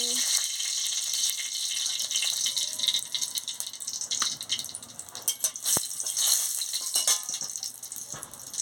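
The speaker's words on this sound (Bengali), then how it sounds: "তেল গরম হয়ে গেছে, আমি শুকনো লঙ্কাটা দিয়ে দিচ্ছি।" Dried red chillies sizzle and crackle in hot oil in a wok, a continuous bright frying hiss that stays loud throughout with small spitting pops.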